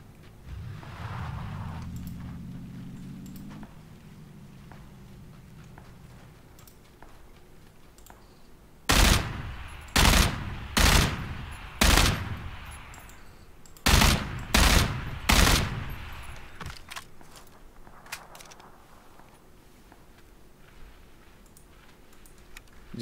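Bursts of gunfire from PlayerUnknown's Battlegrounds, heard as two loud clusters of three or four rapid shots each, following a low engine-like drone at the start.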